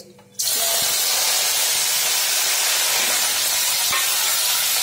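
Spices dropped into a hot pan burst into a loud, steady sizzle after a brief quiet start, the bright hiss holding unbroken to the end.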